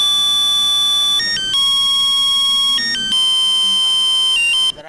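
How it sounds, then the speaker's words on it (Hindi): A loud electronic phone ringtone plays a steady melodic pattern of sustained tones, stopping abruptly near the end. "जरा बीवी का फोन है"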